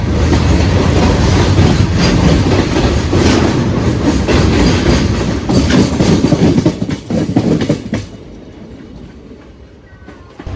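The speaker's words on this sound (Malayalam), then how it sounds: "ഒരു ഗുഡ്സ് ട്രെയിൻ വരുന്നുണ്ട് പാരലായിട്ട്. കടക്കടക്ക് ശബ്ദമായിട്ടാക്കിയിട്ട് അടിപൊളിയല്ലേ." A goods train clatters past on a parallel track, loud and close, with continuous clickety-clack from wagon wheels that fades toward the end as it passes.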